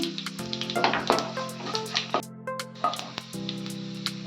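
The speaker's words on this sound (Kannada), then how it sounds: "ಅದು ಕೆಂಪಗೆ ಹಾಕ್ತಾ ಸ್ವಲ್ಪ ಕರಿಬೇವು ಸೊಪ್ಪು ಹಾಕ್ತೀನಿ" Onion and curry leaves sizzle in hot oil, a bright steady frying hiss with crackles and occasional stirring scrapes, close and loud, joined by a sustained background hum.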